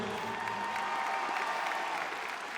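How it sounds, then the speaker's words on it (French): Audience applause for a famous boxing champion being introduced at an event, a short burst of moderate clapping from a crowd with some background murmur. "le très grand champion Brahim Asloum, on peut l'applaudir"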